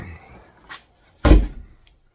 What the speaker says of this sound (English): Let me grab this door here.